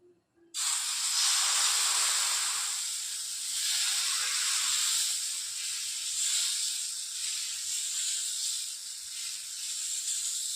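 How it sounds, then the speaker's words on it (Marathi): Cucumber and onion dhapata batter hits a hot tawa with a sudden sharp onset, then settles into a loud, steady sizzling hiss that holds for several seconds with no talk. "आता आपण तव्यात टाकून घेणार आहोत"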